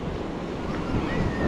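Wind and ocean surf roar steadily at a beach in Newcastle, Australia, a dense continuous wash of breaking waves with buffeting wind noise and no distinct individual breakers.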